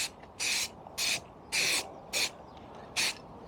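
Aerosol can spraying light coats of paint onto Motobecane Mobylette X7 moped parts outdoors on a warm day, five short hissing bursts separated by brief pauses, close and fairly quiet, no voices.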